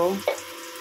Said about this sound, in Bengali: রান্না হচ্ছে এখন। মাছ ভাজছি